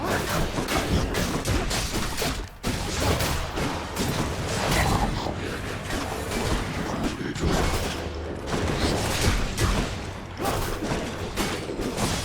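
Small explosions pop in rapid, continuous succession during combat in the action game Hades, forming a dense, loud barrage of booms and crackles with no pause for the whole stretch.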